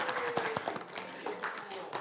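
Applause from an audience at a regular town council meeting welcoming a new staff member, a brief scattering of claps with voices chatting over it at moderate volume.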